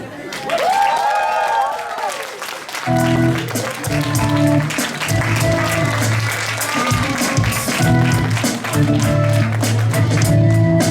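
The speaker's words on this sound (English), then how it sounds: "one more round of applause for Jacob, please" An audience at a Valentine's night stand-up comedy show applauding a comedian, sustained loud clapping filling the room for several seconds, with cheers and speech mixed in underneath.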